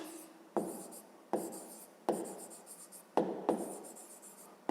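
Pen strokes of handwriting on paper while working out a fifth-grade maths exercise, soft scratchy writing in several short bursts with brief pauses between, close and quiet, no talking.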